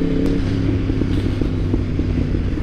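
A Yamaha MT-10 motorcycle in fourth gear gives a steady, close, loud engine drone with a strong low harmonic hum and a few faint clicks, and no voices.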